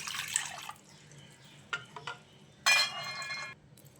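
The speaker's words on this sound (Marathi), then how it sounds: "या कढईमध्ये मी या कपाने चार कप पिठासाठी आठ कप पाणी घेते" Water is poured from a cup in a few short splashing bursts into a metal wok, with quiet pauses between pours and one longer, louder pour near the end.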